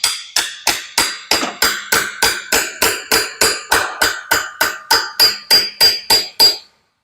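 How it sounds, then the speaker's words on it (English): A hammer drives a punch into a clutch pilot bearing bore packed with grease. About eighteen sharp metallic blows land in a steady, evenly spaced rhythm, loud and close, then stop. "Now what I'm going to try to do is take this punch that fits in there."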